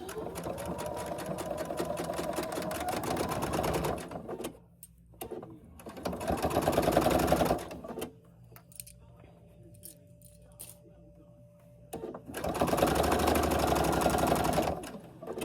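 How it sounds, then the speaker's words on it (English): A sewing machine runs in steady bursts while stitching the final quarter-inch seam of a cushion, each burst a loud, even mechanical whir that stops and restarts, with quiet pauses between runs and no talking. "we are going to go ahead and top stitch, or not top stitch, the last 1/4 inch seam"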